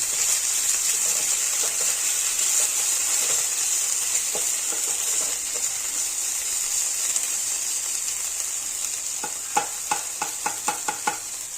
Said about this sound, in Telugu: నెక్స్ట్ వచ్చేసి అల్లం వెల్లిగడ్డ, కొంచెం మిక్స్ చేసుకుంటే చాలు